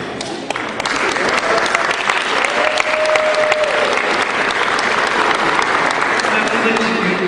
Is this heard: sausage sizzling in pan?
no